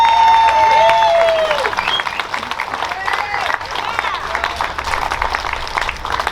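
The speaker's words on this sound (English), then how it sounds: "Everybody here, give him a round of applause" Audience applause at the Remember the Alamo ceremony in Texas, following a speech by former Senator Don Huffines; a steady wash of clapping from a crowd, with a voice audible over it at first before the clapping carries on alone.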